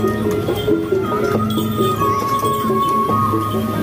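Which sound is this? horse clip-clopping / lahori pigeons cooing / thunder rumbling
horse clip-clopping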